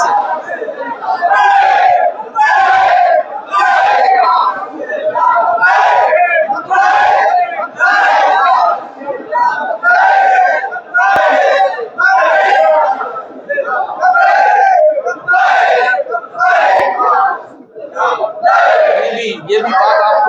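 A large crowd at a religious gathering chants loudly in unison in rhythmic repeated bursts with short pauses, a call-and-response chorus of many voices filling the space.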